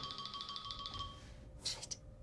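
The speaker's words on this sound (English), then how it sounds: "Oh, that must be my phone." A phone rings at moderate distance, a repeating electronic chirping tone pattern over steady room noise, followed by a brighter burst of ringing near the end.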